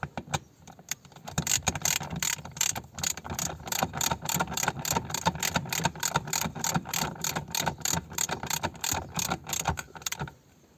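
Handbrake lever on an Audi A4 B5 ratcheting as it is pulled up, a long run of rapid, evenly spaced metallic clicks from close by, lasting about nine seconds with no talking.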